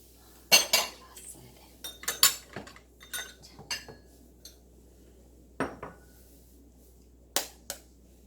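Eggs are cracked for a soft steamed egg dish: a handful of sharp, close taps and clinks against a bowl rim come in irregular bursts with short quiet gaps between them.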